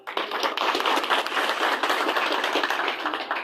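A crowd at a political gathering in Pakistan, held to announce new members joining Pakistan Tehreek-e-Insaf, bursts into loud, dense applause, many hands clapping together in a sustained roar for several seconds.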